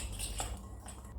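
A utensil scrapes and clinks against a bowl while dry qatayef batter ingredients of yeast, baking powder, salt and sugar are mixed, with steady close scraping and light metallic taps.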